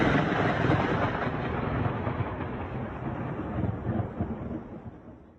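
Thunder rumbling through a heavy rainstorm over Shanghai near the Oriental Pearl TV tower, a loud, continuous broadband roar with rolling swells that slowly fades toward the end, no voices.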